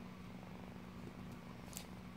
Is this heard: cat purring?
yes